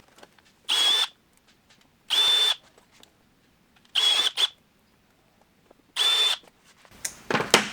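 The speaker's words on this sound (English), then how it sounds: "I'll flip my drill into reverse. Push it through that way to leave a cleaner finish." A power drill running in reverse, pushed through the vinyl of a Rokblokz fender extension on a 2023+ Speed UTV El Jefe: four separate, loud, whining bursts of about half a second each with short pauses between, then a rougher burst at the end.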